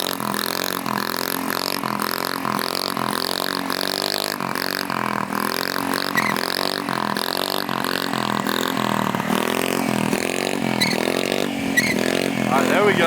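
A Taotao scooter's small engine revs repeatedly in rhythmic pulses during a long wheelie, loud and close, with voices talking over it throughout.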